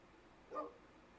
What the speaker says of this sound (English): Forgive my dog.